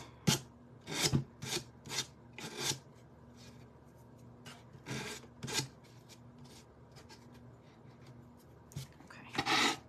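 Hand sanding on wood: short rasping scrubs in irregular bursts, close and distinct, with quiet pauses between strokes.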